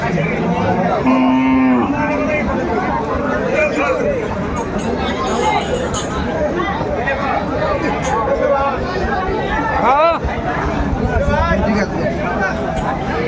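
A cow with her calf moos at a crowded cattle market, one clear moo early and another call later, amid constant chatter and crowd babble.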